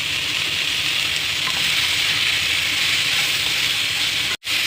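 Ridge gourd with green chilies, salt and turmeric stir-frying in a pan, a steady loud broadband sizzle throughout, cut by a brief silent gap just before the end, with no voices.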